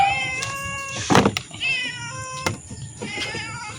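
A cat meows several times in a series of close, clear, tonal calls with short pauses between them, and a brief knock or thump is heard partway through.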